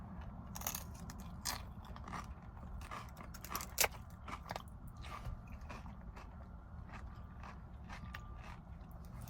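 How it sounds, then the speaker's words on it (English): Faint, close crunching and biting of broken tortilla-like chip pieces, scattered irregular crackles over a quiet room, with no talk. "I'm just going to break it up and eat it like tortilla pieces in here"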